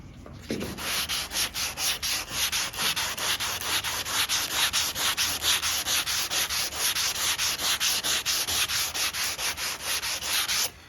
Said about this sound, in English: See how nice and even that sands?